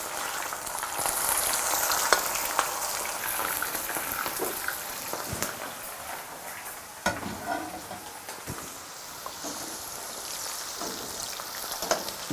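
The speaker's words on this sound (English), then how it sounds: "And now the oil is hot enough. Gently lower the okra." Okra fries in hot oil with a continuous dense sizzle and crackle, steady and fairly soft, dotted with sharper pops and spatters, and no voices over it.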